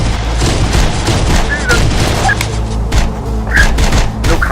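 Gunfire in the video game Terminator Dark Fate Defiance, a loud sustained fusillade of rapid shots and heavy booms that continues throughout, with game voices calling out over the din.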